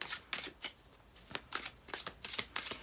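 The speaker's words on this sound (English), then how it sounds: "It's seriously like butter shuffling this deck." A Fountain Tarot deck being shuffled in bursts of smooth riffling, about seven quick card flurries close by at a steady rhythm, with no talking.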